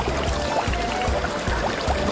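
Water from a LEGO Technic pump spills and trickles into a tiered fountain, a steady close pour with faint low splashes repeating under it.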